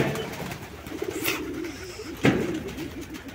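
Pigeons coo softly at a home pigeon farm, several low throaty calls rolling over one another with a brief wing flutter and a louder burst midway, no voices.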